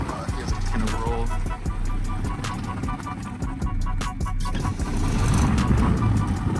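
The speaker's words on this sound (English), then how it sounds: "Let's see if we can do a burnout here." An E Ride Pro SS electric buggy under heavy throttle during a burnout attempt makes a close, rising drivetrain drone with rattling clicks from the chassis and tires, while a person talks over it.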